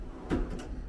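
A drawer in a hotel room at a contemporary resort slides open or shut, one short close thud and scrape over quiet room tone.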